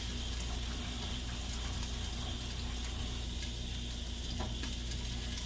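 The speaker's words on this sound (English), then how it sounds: "And continue with rinsing my rice." Rice being rinsed in water in a home kitchen: a faint, steady rush and trickle of water runs continuously, with a few soft splashes near the end.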